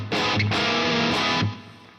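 Heavily distorted electric guitar chugs through a rhythm part, a loud sustained chord riff of about a second and a half with a brief break near the start, then fading out.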